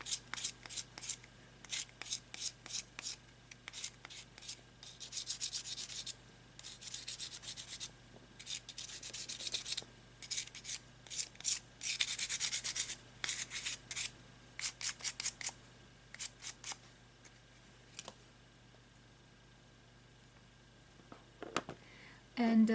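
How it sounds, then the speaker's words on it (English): Sandpaper rubs the edges of a dried clay pendant in quick, close scratchy strokes that come in bursts, with a quieter stretch near the end. "I will use the sandpaper to make sure that the edges are smooth."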